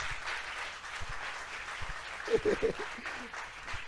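A church congregation claps and cheers in a sustained, moderately distant wash of applause, with a brief louder burst of voices partway through and a preacher speaking over it.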